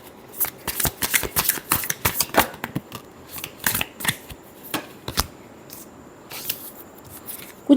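Tarot cards are shuffled by hand in quick, crisp riffles and slaps. The bursts are uneven and close by, with short pauses between them and no voices.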